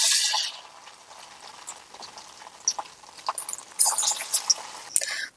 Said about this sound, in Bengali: তো একইভাবে আমি বাকিগুলোকেও ভেজে নিচ্ছি।